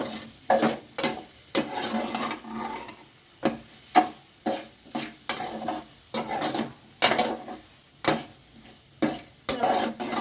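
Yippee noodles with ginger-garlic paste mixed in a pan, a series of repeated scraping strokes with short pauses between them, close and moderately loud over a light sizzle.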